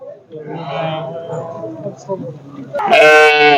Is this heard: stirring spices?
no